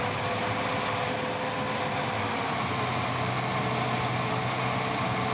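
A tractor engine idling in Farming Simulator 22, a constant, even, loud mechanical drone with a low hum that holds without change throughout, with no talking.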